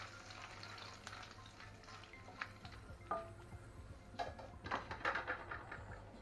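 Dried red chilli, bay leaf, whole garam masala and cumin sizzle in hot oil for a tangra fish tel kalia, a soft crackling fry with spattering bursts that grow busier toward the end.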